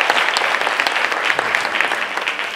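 Group applause at a visioning day gathering, a dense steady burst of many hands clapping together, loud and close, holding evenly throughout without speech.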